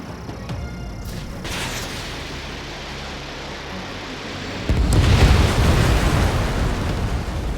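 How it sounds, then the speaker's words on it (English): A heavy explosion as an enemy bomber is shot down in an air-combat video game erupts suddenly and loud over a steady engine-like roar, then holds as a sustained rumbling blast. "Enemy bomber down."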